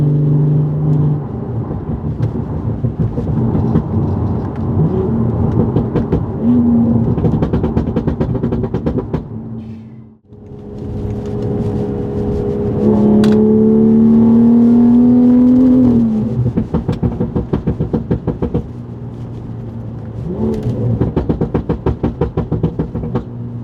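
A BMW fitted with coilovers drives over a rough, uneven bridge, its engine droning steadily up close with road rumble and thumps, easing briefly partway through and then swelling again as it accelerates.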